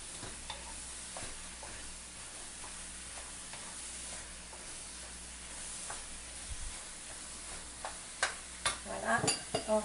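A tofu and vegetable stir-fry with ginger sizzles softly in a pan while a utensil stirs and scrapes at close range. Clinks grow louder toward the end, with faint background hum and no clear talk.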